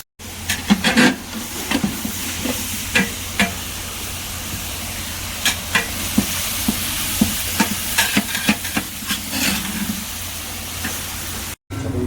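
Mutton fries in a pot on a wood-fired stove, a steady loud sizzle broken by repeated scraping and clattering as a spoon stirs the meat.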